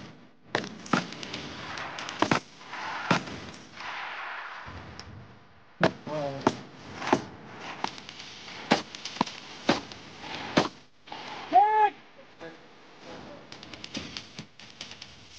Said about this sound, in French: leur fusil d'assaut est capable aussi de tirer plus de 750 balles par minute. En mode rafale.